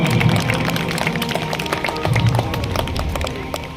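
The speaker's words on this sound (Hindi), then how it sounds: "तालियां हो जाए" An Eid Milan gathering of colleagues and families breaks into applause, a dense and steady patter of many hands clapping at once that holds evenly at a fairly loud level throughout.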